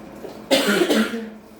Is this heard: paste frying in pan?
no